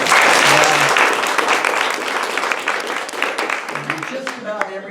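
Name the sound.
audience clapping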